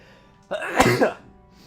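A single sharp sneeze bursts out close to the microphone, a quick inhale followed by a forceful explosive release lasting under a second.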